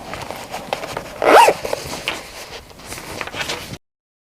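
A zipper on a finished vinyl bag is pulled in one quick, loud, close rasp, surrounded by softer handling rustles.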